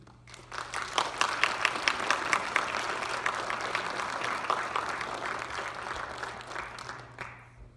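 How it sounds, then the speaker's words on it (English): Audience applause for a speaker at a Take Back the Night event, a dense sustained burst of many hands clapping that swells quickly, holds steady for several seconds, then tapers off. "Can we give her another big round of applause?"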